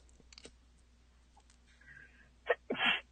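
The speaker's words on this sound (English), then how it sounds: "I just sneezed." A person sneezes near the microphone, a sharp double burst at the end after a faint intake and quiet clicks, loud against a near-silent background with no talk.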